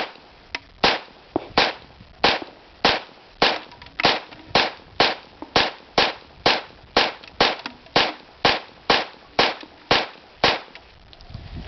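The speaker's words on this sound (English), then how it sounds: "So I'm shooting here" An HK P30L pistol fitted with a rail-mounted compensator fires a long, evenly paced string of about twenty sharp, loud shots, each cracking out and decaying before the next.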